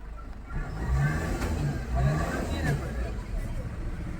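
A Maruti car engine, just reflashed to remove its speed limit, runs and revs in a low steady rumble that swells and eases over a few seconds, with voices murmuring in the background.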